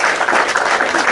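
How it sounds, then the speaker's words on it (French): A crowd at a political gathering breaks into steady, dense applause, loud and close, filling the brief moment without pause. "Là, tu peux vraiment applaudir."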